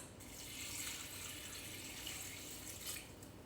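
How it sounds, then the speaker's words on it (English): Water runs into a pot for an herbal chai tea in a soft, steady pouring rush that swells slightly in the middle and holds quietly to the end, with no talk. "And so I'm going to add my water and simmer this."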